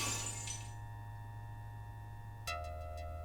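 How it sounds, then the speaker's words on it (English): Glass shattering as a sound effect in the Fate/Stay Night Realta Nua visual novel, a bright burst of breaking glass fading into ringing tones, then a second sharp crash near the end over a low game hum. "leaving a sound like breaking glass behind him"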